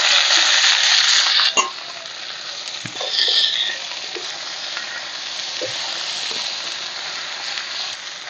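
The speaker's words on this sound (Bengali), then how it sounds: "পেঁয়াজগুলো একটু ভাজা হয়ে গেছে, এর মধ্যে দিয়ে দিচ্ছি সমস্ত সবজিগুলো" Mixed vegetables, including taro and radish, hit onions frying in a pan with a loud sizzle that settles into a steady hiss, with occasional utensil scrapes and clinks as they are stirred.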